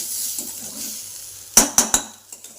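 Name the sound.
re-frying leftover fried food in a pan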